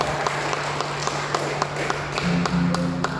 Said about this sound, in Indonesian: Kita berikan tepuk tangan kepada mereka.